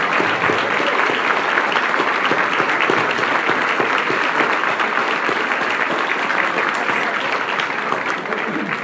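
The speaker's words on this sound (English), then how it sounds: "let's give them a big round of applause to all our three commissions and our 20 members" Sustained, loud applause from a gala audience honoring commission members, steady dense clapping from many hands that continues evenly from start to finish.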